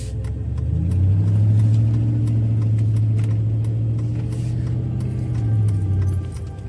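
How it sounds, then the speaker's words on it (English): A loud Hemi-powered truck rumbles through a downtown street during a Christmas parade outing, its deep engine drone swelling slightly and holding steady for several seconds before easing off near the end. "Take the loud Hemi truck through that street."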